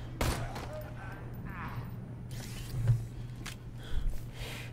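Shotgun gunfire in the video game Borderlands 2, as several short, sharp blasts at uneven intervals, moderately loud against a low background hum, with a voice talking across them.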